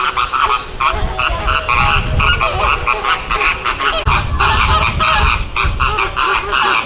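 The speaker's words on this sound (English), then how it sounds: "Despite how I feel about flamingos, flamingo fighting is actually hilarious." Flamingos fighting at Zoo Miami, a loud, dense chorus of honking, goose-like calls in rapid overlapping bursts, close and continuous with no talk.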